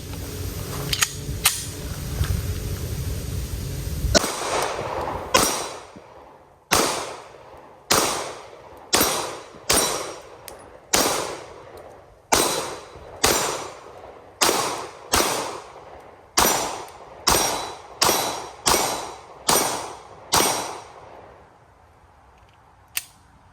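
A Zev Technologies Oz9C pistol fires roughly sixteen sharp shots at an uneven steady pace, each loud crack followed by a short ringing decay, after a few seconds of handling noise.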